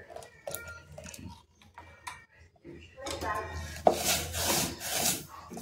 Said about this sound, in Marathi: अगदी बारीक धार सोडत अगदी छान असं फेटून घेणार आहोत आपण